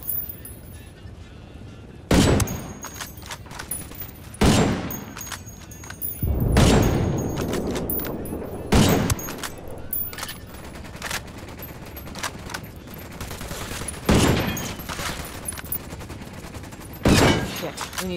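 Gunfire in the Ghost Recon Wildlands shooter during a bank robbery mission: loud, separate bursts and heavy volleys recurring every two to three seconds over a low ambient rumble, with some speech between them.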